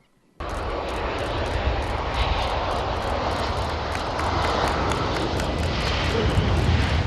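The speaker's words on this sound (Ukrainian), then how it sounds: "І ось історичне відео приземлення на смугу литовища." Passenger airplane arriving from Turkey touches down and rolls along the runway at an airport, a loud, sustained engine roar that begins abruptly and holds steady throughout, close and dominant with no talking.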